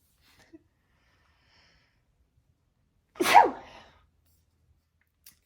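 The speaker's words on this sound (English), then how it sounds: "I need to sneeze again." A single sharp sneeze bursts out of near silence, close and loud, followed by quiet.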